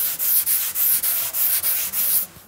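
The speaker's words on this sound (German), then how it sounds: "Und da schleife ich jetzt so lange" Hand sanding of filler primer on an Oettinger TCR street body kit part: steady, close rasping strokes in a regular back-and-forth rhythm, about nine passes, with no talk.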